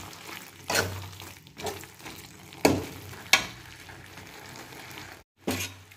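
Okra sizzles steadily in a hot pan, broken by several scraping stirs of a spatula that bring louder bursts of frying, close and without speech.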